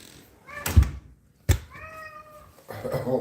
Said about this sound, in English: Oh, what a loud meow.